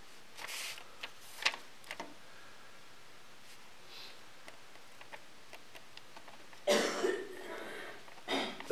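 A woman coughs several times in short dry bursts, close, the loudest fits near the end, with light rustling and ticking in between.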